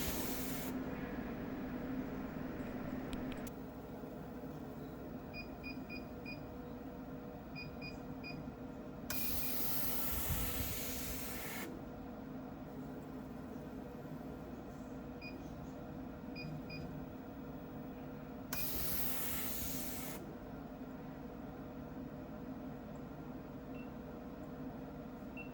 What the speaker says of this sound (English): I place the material at an angle and make the few lines.